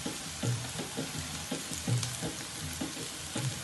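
Onions and green chili with salt fry in a pan, a steady close sizzle with rhythmic stirring scrapes about every half second, no voices.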